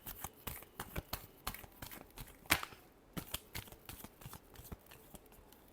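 Tarot cards are shuffled up close, a soft rapid riffling of repeated quick flicks and slaps at low volume, no voices.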